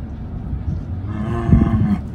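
Cows on a farm moo at new herd mates arriving in a trailer, a loud, close, drawn-out low moo rising near the end over a rumbling background.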